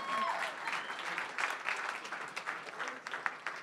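An audience claps steadily at a tech startup pitch night, a dense, sustained wash of hands lasting the whole stretch with no break or voice over it.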